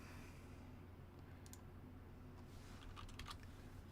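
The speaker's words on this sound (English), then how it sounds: "let me try muting so you don't hear my typing" Quiet typing on a computer keyboard, faint clicks in short clusters over a steady background hum, heard alone with no voice.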